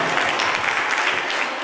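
Audience applause bursts out for an honoured family at a public gathering, a dense, steady wash of many hands clapping that fills the whole moment without pause.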